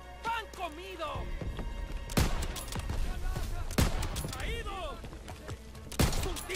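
Gunfire rings out during a D-Day bunker assault in the Call of Duty WW2 campaign, with several sharp loud shots and bursts. Battle noise and shouting voices continue between them.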